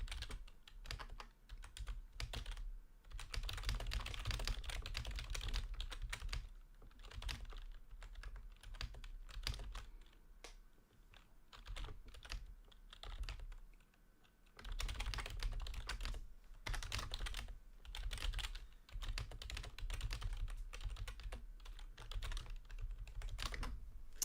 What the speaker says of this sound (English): did you hear me typing away probably?